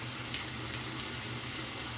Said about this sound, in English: I'm going to rinse the underside of the blade a little more.